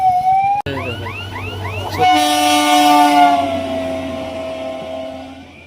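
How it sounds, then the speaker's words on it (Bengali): A loud train horn blares close by as a train rumbles past a level crossing, the drawn-out blast then fading steadily. "এখানে রেল গেট পড়ে আছে, দেখো রেল গেট।"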